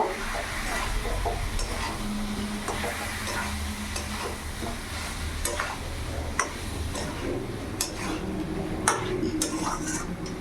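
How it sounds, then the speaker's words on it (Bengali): Spices being stirred into a chicken, papaya and potato curry in a pan, with steady scraping and soft sizzling plus occasional utensil clinks against the pot; no talking. "এবার ভালো করে মিশিয়ে নেব।"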